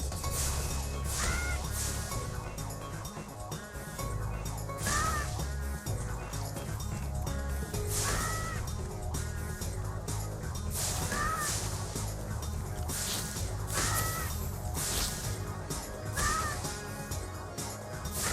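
Bird calls in the Spyro 3 video game, repeated crow-like caws recurring every few seconds over a busy, continuous game music bed.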